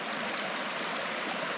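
Creek water flows in a steady, broad rush that holds constant throughout, with no voices over it.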